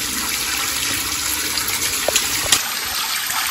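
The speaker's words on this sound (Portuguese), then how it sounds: "Liga a água, liga a água." Water gushing steadily from a tap at home, a continuous hiss close by with a few faint knocks and splashes.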